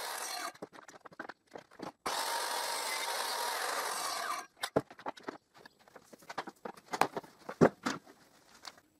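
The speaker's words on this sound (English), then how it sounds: "Now I put the other part of the hanger in the jig, and I cut it." A wooden hanger is cut while clamped in a jig: one harsh, continuous rasping burst of about two and a half seconds, then scattered knocks, taps and clicks as the pieces are handled.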